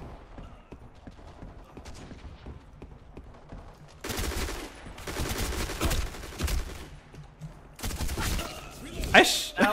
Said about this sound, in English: I shot like three different guys